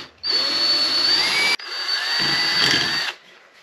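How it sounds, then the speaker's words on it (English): Power drill boring a hole into metal on a motorcycle saddlebag, close and loud, a steady high whine lasting about three seconds, a brief pause near the middle, then drilling resumes and winds down. "So let's gently drill a hole."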